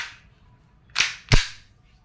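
Two sharp, close pops from an E&C Glock 17 Gen 5 airsoft pistol fired during a shooting test, spaced about a third of a second apart, with quiet between.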